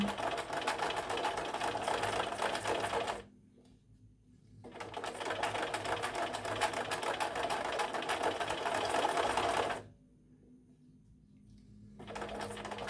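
A sewing machine stitches fabric squares in steady, rapid bursts, running for several seconds, pausing briefly, then resuming, close and even in level with a faint hum underneath.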